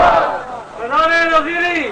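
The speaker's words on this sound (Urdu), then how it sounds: "نعرہ آپ کا بہت اچھا تھا" At a shrine gathering, a crowd shouts a religious slogan (naara) in unison, a short loud chanted cry rising and falling over about two seconds.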